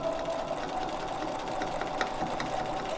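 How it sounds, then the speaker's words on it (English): A sewing machine quilts a quilt-as-you-go block, stitching steadily and close up in a continuous whirring run with no pauses for the whole stretch. "we're ready to go ahead and start quilting"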